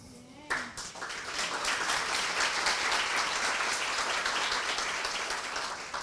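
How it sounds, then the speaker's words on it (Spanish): Audience applause fills the room after a talk at an ethics and disciplinary regulations induction, a steady dense wash of many hands clapping that begins abruptly and holds strong to the end. "En estos espacios se valora y se agradece con estos aplausos."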